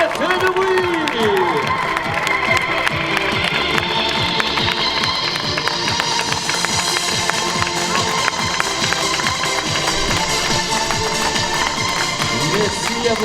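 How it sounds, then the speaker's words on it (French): A crowd cheers and applauds at the Dijon 2019 triathlon Half Ironman prize ceremony, loud continuous clapping and shouts over a pulsing music beat, with an announcer's voice in the mix. "faites-moi un tonnerre d'applaudissements"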